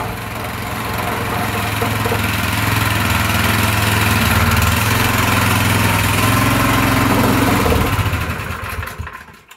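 A petrol-engined wacker plate compactor runs steadily at close range after a pull start, a loud continuous low engine drone with a throaty rumble that holds even before cutting off abruptly near the end.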